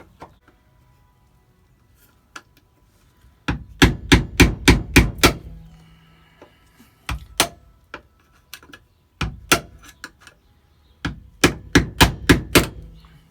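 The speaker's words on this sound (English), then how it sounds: "I'm just going to take a flathead screwdriver and pry it off." Flathead screwdriver prying a clip from a VW Rabbit truck door: bursts of sharp metallic taps and clicks in quick clusters, close up with quiet gaps between and no voices.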